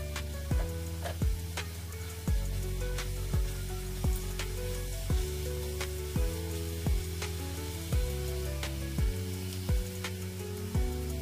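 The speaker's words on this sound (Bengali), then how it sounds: "পেঁয়াজের পেস্টটাকে এবার খুব ভালো করে মিশিয়ে দিলাম।" Onion paste fries in oil with a faint, steady sizzle while a spoon stirs it, giving regular scraping clicks roughly every second; tonal background music runs throughout and no one speaks.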